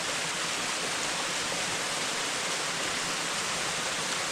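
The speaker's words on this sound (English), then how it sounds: "I love these waterfalls, man." A forest waterfall on the Foothills Trail roars as a dense, steady hiss of falling water, loud and close, unbroken for the whole stretch with no voices.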